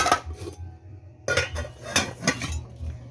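Plates and utensils clink and clatter while dishes are washed, with several close, bright knocks in quick bursts and a short pause between them.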